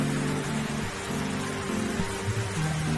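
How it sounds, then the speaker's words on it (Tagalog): Steady rain falls as a constant broadband hiss with no break, while a low engine-like drone runs beneath it throughout. "Magpapatila pa nga ako ng ulan eh."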